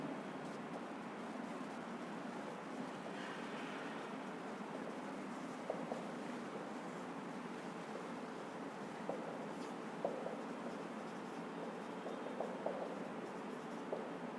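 Writing scratches faintly during a school science lesson on motion, with a few soft ticks and strokes over a steady background hiss.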